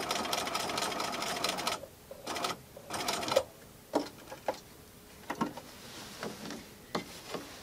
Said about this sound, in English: I'm going to sew all the way around the handle, creating a cute little box that'll offer security.